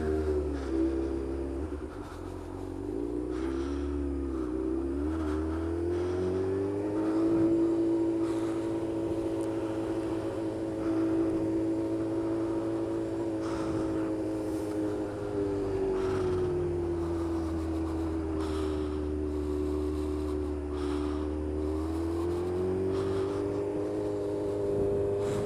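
Motorcycle ridden along a road, heard from the rider's position as a steady engine drone with slowly shifting pitch and wind rush, moderately loud and continuous, no talking.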